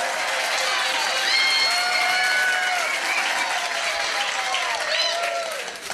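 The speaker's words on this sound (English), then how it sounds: "Give them a big round of applause." A crowd at a trivia quiz night gives a big round of applause for the gold medal winners, loud continuous clapping with some cheering, with voices and whistle-like tones over it.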